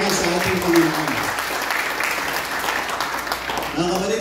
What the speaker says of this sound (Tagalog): At pumalakpak ng malakas sa ating Panginoon